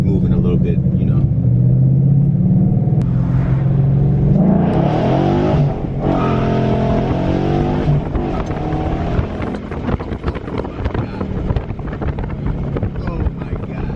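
A 5.0 Ford Mustang with performance mods accelerating hard in first gear, engine roar rising in pitch with heavy wind rush, loud and close throughout.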